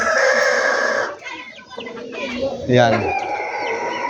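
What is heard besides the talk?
chickens clucking and rooster crowing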